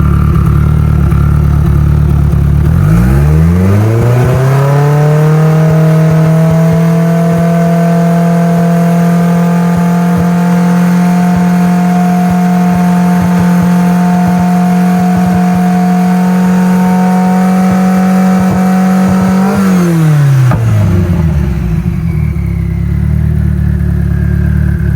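A boosted Mitsubishi Evo engine starts, settles into a steady, loud idle with a firm low drone for most of the stretch, then shuts off near the end, heard close with no talking.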